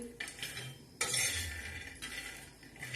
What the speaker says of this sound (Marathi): तर आता शेंगदाणे आपले छान असे भाजत आहे